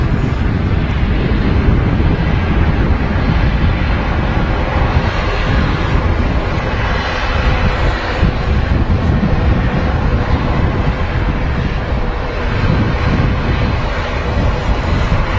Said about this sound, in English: Not in a rush on the taxi, the ATR.